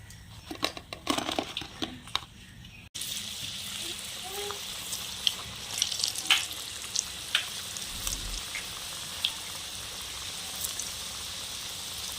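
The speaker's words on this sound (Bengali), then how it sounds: "তেল গরম হয়ে গেছে, পিঠাগুলা ভেজে নেব।" Taal palm pulp seem pitha frying in hot oil, a steady crackling sizzle dotted with sharp pops, close and continuous after a brief softer opening.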